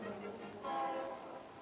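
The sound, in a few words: train arriving in the city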